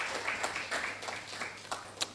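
Scattered audience applause at a Gambian foundation ceremony honoring board members, a modest smattering of claps from a small crowd, fairly faint and steady with a few sharper individual claps.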